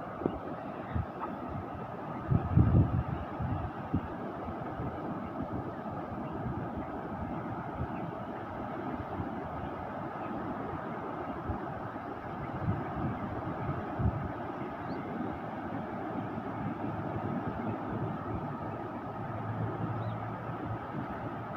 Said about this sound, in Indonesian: Keadaan air ini agak berangin lah, ada ombak-ombak sedikit lah.